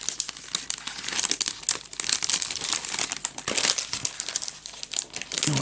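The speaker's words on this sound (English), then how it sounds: "all that I need to do now is to attempt to put these back into their envelopes without sticking" Sticker sheets slide back into paper envelopes with continuous close crinkling and rustling of paper, broken by a short pause, with no speech.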